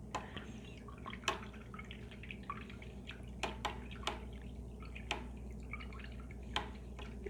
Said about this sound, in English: so I'm rinsing that out